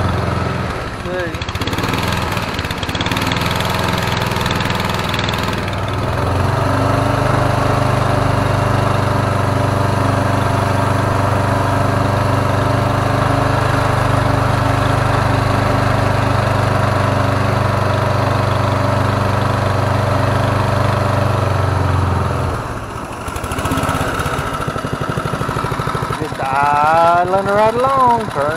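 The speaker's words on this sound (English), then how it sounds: "Idling right along, purring like a kitten." Homemade mud motor boat engine idles on a lake, a steady, loud, close putter lasting most of the stretch, with a voice talking over it briefly near the end.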